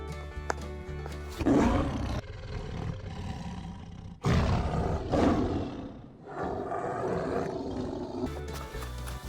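A tiger toy gives loud, repeated roars in several bursts with short gaps between them, with no talking.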